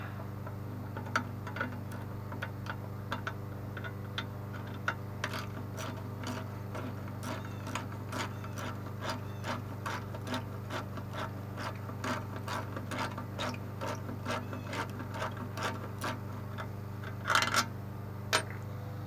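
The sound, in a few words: ratchet socket wrench loosening bolt on Briggs & Stratton carburetor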